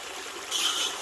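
Water runs steadily through a gold prospecting sluice at a mountain claim, a close, continuous rushing trickle that briefly swells louder partway through.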